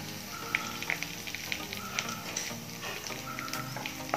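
Cumin seeds, urad dal, moong dal and broken red chillies frying in hot oil for oggarane kadubu, a steady close sizzle with scattered sharp crackles and pops throughout, no voices.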